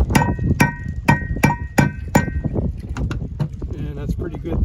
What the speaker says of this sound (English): you can take your old TORQ washer and just bang that down